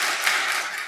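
A church congregation claps during a Sunday service at a Korean Presbyterian church in Detroit. It is a brief, steady burst of many hands with no voices.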